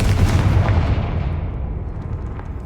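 A Confringo spell blast in the video game Hogwarts Legacy, one loud, booming explosion that rumbles heavily and then fades out over a couple of seconds.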